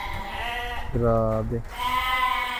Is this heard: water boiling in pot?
no